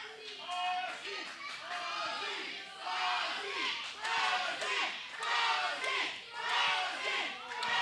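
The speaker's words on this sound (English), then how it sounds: "There's a mixed reaction in the crowd here. A lot of people chanting Azie, but there's a Brixton chant as well." Wrestling crowd at an EPW main event chanting in rhythmic waves, with split, dueling chants for two rival wrestlers; loud, continuous, many voices at once.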